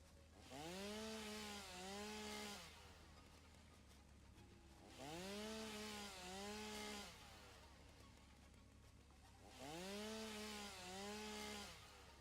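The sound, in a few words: chainsaw cutting wood in the video game Satisfactory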